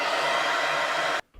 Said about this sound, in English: then we'll go to use the hairdryer